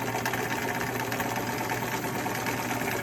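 Sewing machine stitching a fitted fabric face mask, running steadily and continuously at close range with a dense mechanical whir and no pauses or voices.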